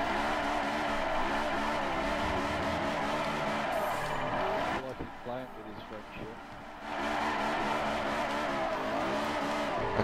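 A Honda S2000 drifting in Forza 4: a loud, steady engine roar with tire squeal, briefly dropping off mid-run as it shifts, then returning to full power, with someone talking over it.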